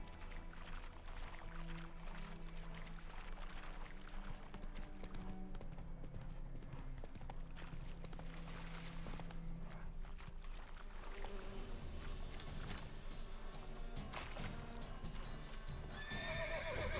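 Horse hooves clip-clop steadily in a pirate video game, joined by repeated whinnies and neighs, loud and continuous over layered in-game music and ambience.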